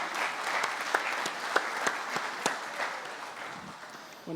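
A crowd applauds at a summer harvest inauguration for a sunflower crop, with steady, fairly soft clapping and a few sharper individual claps that fade gradually toward the end.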